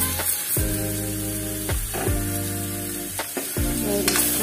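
Ridge gourd (dodka) with tomato frying in a pan, giving a steady close sizzle broken by a few stirring scrapes, with no talk.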